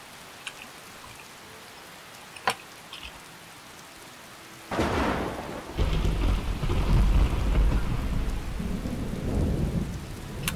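A thunderstorm in Morrowind: light pattering rain with a few faint ticks, then a loud rolling crack of thunder about halfway through that gives way to heavy, dense rain and a deep rumble that lingers to the end.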